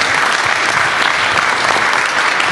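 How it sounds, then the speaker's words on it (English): A dense, loud wash of applause for two fighters at the K-1 Rising 2012 pre-fight press conference in Los Angeles, many hands clapping steadily and evenly with no break across the whole stretch. "A nice round of applause, please, for these two guys."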